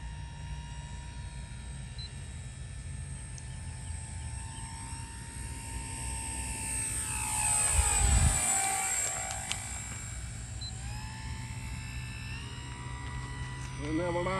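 Dynam P-47 radio-controlled model plane coming in to land, its electric motor whining steadily and sweeping in pitch as it passes close overhead, faint talk underneath.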